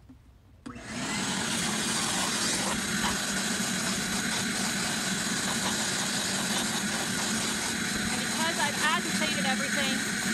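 A vacuum cleaner starts with a sharp onset after a short quiet moment and then roars loud and steady while cleaning sand and short pet hair from a car floor mat, with no pause for the rest of the clip.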